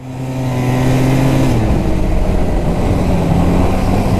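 An Arctic Cat snowmobile fitted with new carbides has an engine that drones loudly and steadily close by, its pitch shifting slightly as it revs up, with no talking over it.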